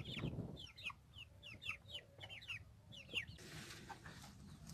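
A brown hen clucks softly in a quick series of short, repeated calls over a quiet background, fairly close and without any talking.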